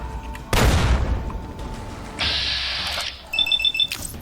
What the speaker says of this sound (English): Another grenade jerk.